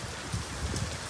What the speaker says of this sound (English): I kind of want to go out in the rain to kind of walk around my car, but Brian might kill me.